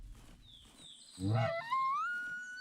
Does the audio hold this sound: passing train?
no